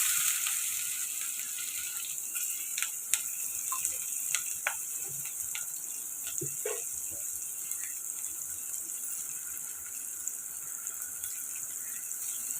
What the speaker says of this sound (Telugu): ఇప్పుడు ఫ్రై చేసుకోవాలండి.